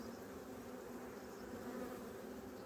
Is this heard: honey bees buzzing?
yes